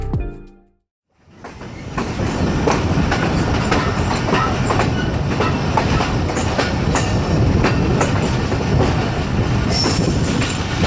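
A passenger train, the Sir Syed Express, leaves Khanewal railway station, rumbling loudly and steadily, wheels clattering over rail joints in a rhythmic clickety-clack with occasional squeals, after a brief quiet start.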